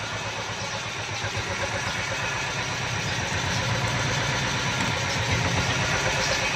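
Steady idling from an auto-rickshaw engine rebuilt after a broken crank, heard at moderate distance as a continuous, evenly pulsing putter that swells slightly toward the end, with no talking.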